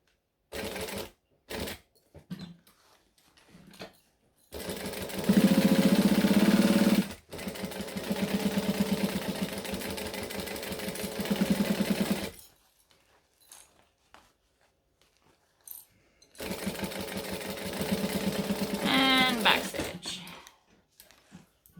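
A home sewing machine stitching fabric with a freshly wound bobbin, running in several bursts of rapid mechanical whirring separated by pauses and quiet handling, close by, with brief talk in places.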